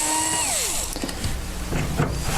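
A cordless power drill drives out the side-panel screws of a home electric heater during a fan replacement, its motor whining in a steady pitch that winds down, followed by brief clicks and a few short buzzy bursts, close and fairly loud, with no talk.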